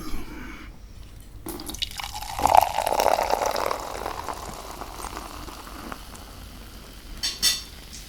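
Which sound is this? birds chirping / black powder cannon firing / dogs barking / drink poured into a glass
drink poured into a glass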